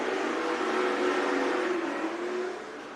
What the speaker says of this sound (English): Fast Frank gets his car back up to speed, and we'll come back to green